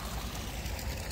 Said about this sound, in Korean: 와, 물소리.